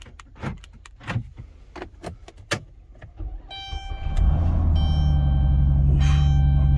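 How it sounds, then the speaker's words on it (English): A Ford car engine cranks and starts, then settles into a loud, steady idle with a constant hum, preceded by several sharp clicks and jingling handling sounds at the start. "Okay, the car runs."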